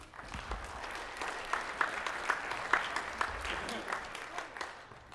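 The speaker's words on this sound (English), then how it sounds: "If you would give them a round of applause." Steady applause from a school jazz band concert audience fills the hall, moderately loud and even throughout, with a few sharper individual claps standing out.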